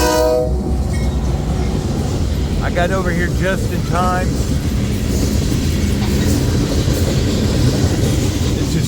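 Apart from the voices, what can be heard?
freight coal train passing with horn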